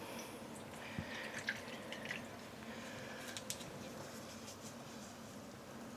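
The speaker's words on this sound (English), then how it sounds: "And I'm just gently squeezing out the water." Dyed yarn skeins are squeezed by hand, sending scattered drips and soft splashes of water down close by, quiet and irregular with a few sharper drops, with no voices.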